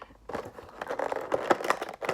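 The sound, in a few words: cutting open toy figure packaging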